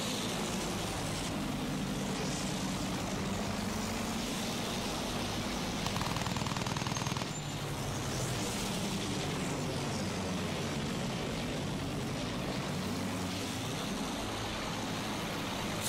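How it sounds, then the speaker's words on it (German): Enemy fighter aircraft roaring overhead amid continuous rattling machine gun fire during an aerial dogfight in the World War I video game Battlefield 1, dense and sustained throughout, with no talking. "Feindliches Flugzeug!"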